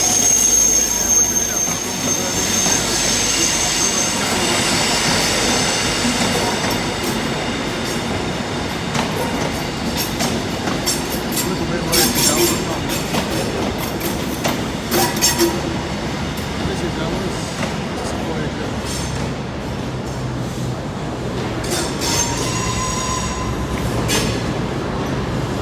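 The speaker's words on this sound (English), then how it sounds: "The one behind me that you can see now coming in there is not our train. Oh, it's the 125" InterCity 125 diesel train pulling into a station, its engines whining loudly and continuously with rumbling wheels and clicking over the rails, close by for a long stretch.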